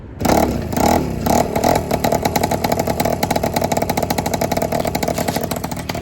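A small two-stroke engine on a big-bore Honda Express moped sputters to life on the first kick and settles into a fast, rattling idle, loud and close, its rapid pulsing beat steady to the end.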